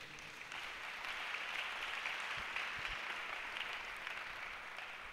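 A church congregation applauds steadily for about five seconds, a dense, even wash of clapping with no voices on top.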